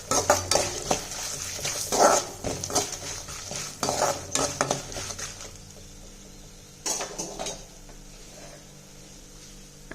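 Turmeric, salt and asafoetida stirred into hot oil in a pan: irregular metallic scraping and clinking of a spoon against the vessel over a soft sizzle, busy at first then thinning to quieter frying.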